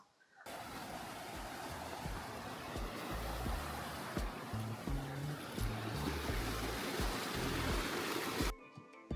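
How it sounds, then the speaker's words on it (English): Waimoku Falls on the Pīpīwai Trail in Maui gives a steady, roaring rush of falling water, with occasional low wind rumbles and no talking. "So this is a dangerous waterfall."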